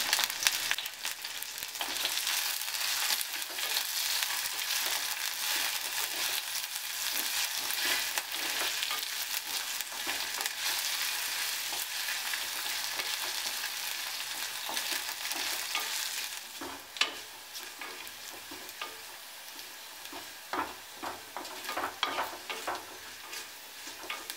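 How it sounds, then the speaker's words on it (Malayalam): Sliced green chillies and curry leaves frying in hot oil for a Kerala-style mango pickle, a bright, continuous crackling sizzle with occasional stirring scrapes, steady and close, no voices. "രണ്ട് പച്ചമുളക് വട്ടത്തിൽ അരിഞ്ഞത് കുറച്ച് കറിവേപ്പില ഇനി ഇതൊന്ന് മൂപ്പിച്ചെടുക്കാം"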